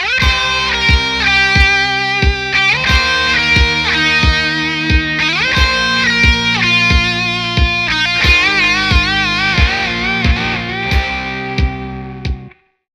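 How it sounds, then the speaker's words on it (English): Electric guitar with distortion playing bend-and-release licks before the outro solo of a country rock song, loud and rhythmic over a steady beat, with pitches sliding up and back down and then abruptly stopping. "It kind of does a couple bend releases."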